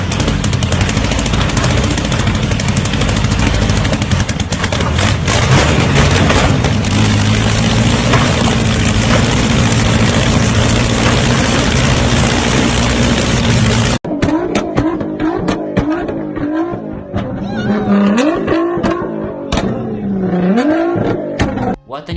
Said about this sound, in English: What an impressive launch by that white Corvette.